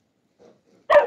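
A dog on a farm with ducks and chickens gives one sharp, close bark after a couple of faint soft whines in otherwise quiet surroundings.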